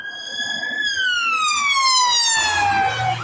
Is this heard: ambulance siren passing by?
yes